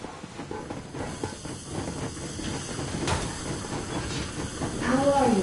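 A steam locomotive setting off in the video game Metro Exodus, with steady hissing steam and rumbling rail noise building gradually, while voices talk over it.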